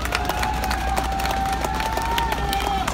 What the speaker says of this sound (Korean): 우리 이용로 의원에게도 큰 박수 한번 보내주시기 바랍니다.